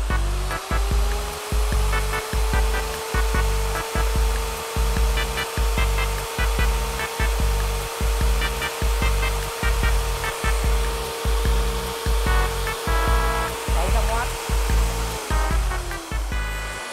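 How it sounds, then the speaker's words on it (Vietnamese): A Bosun Z1Z-110B Plus core drill spins with no load, a steady loud motor whine over a rapid, regular mechanical pulsing that holds evenly, then begins to wind down at the end. "Bây giờ tôi sẽ test cái máy khoan này cho anh em xem nhá. Đầu tiên là tôi sẽ cho nó chạy không tải á"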